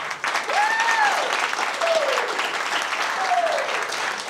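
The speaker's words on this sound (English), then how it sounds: "Let's give them a round of applause." An audience applauds in a room at a real estate company talk, with dense, steady clapping that stays loud throughout while a voice or whistle rises briefly above it.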